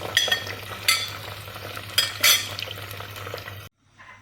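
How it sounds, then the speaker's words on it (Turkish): Meat and vegetables sauté together in cooking oil for a Turkish et sote, giving a steady low sizzle, while several sharp utensil scrapes and clinks against the pan stand out before it falls quiet. "Bunu hepsini aynı anda sıvı yağın içerisine ilave edeceğim. Hafif bunu da soteleyeceğim."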